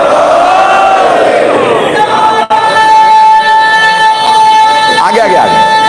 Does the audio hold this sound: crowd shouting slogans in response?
yes